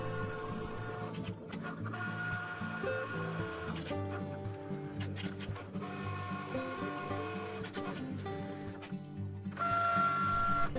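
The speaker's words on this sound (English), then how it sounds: "I go to my machine and I click go and start the cutting process" A Cricut Maker cuts foam interfacing, giving off a steady mechanical whir with stepped motor tones and periodic clicks and shifts as the carriage moves.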